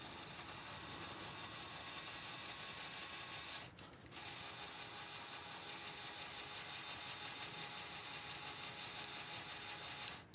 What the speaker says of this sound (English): The second option in this mode is to activate the winch.